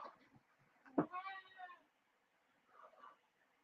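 A fussy 17-year-old cat gives one drawn-out meow close to the microphone, followed by a fainter second meow, in an otherwise quiet indoor room.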